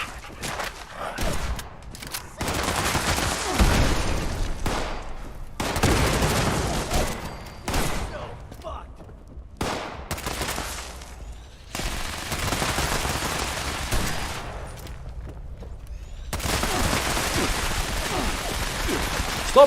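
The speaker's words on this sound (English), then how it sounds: "Stop shooting me when I gotta reload" Bursts of automatic and rapid gunfire in Fallout 76 rattle out in several long volleys separated by short pauses, loud and close, with a few scattered single shots in between.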